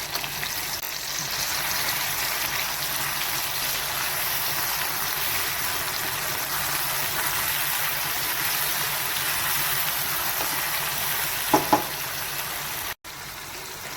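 Onion and tomato fry with ginger-garlic paste in oil, a constant rushing sizzle that stays even throughout, broken near the end by a couple of sharp knocks and a momentary dropout.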